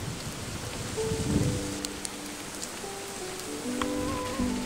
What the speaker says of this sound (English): It's already starting to rain. Ugh. Must be a storm brewing.